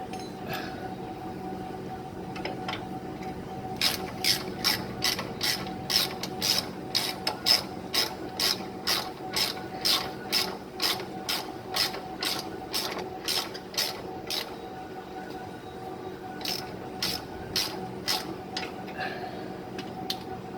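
Ratchet wrench tightening a strut rod nut on a 1968 Ford Galaxy 500, a close, rapid series of about two dozen sharp clicking strokes in a steady rhythm, pausing briefly before a few final clicks, over a low background hum.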